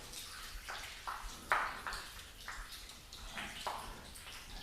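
Water floods and sheets off a sealant-coated car panel, a soft steady splash and trickle with faint drips, moderately quiet and with no voices.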